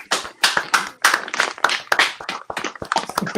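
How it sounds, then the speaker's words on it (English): A small group of people clapping for Dave, a quick burst of close, loud, uneven handclaps that runs steadily for a few seconds with no talking. "Everybody clap for Dave"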